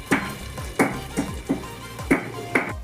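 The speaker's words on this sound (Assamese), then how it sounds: "ওলকবিখিনি দি ঢাকন মাৰি দিয়া গ'ল আৰু অলপ টাইম সিজিব দিয়া গ'ল" Pigeon meat and kohlrabi cook in a covered pot, the lid giving off a regular series of light metallic taps about every half second over a soft sizzle.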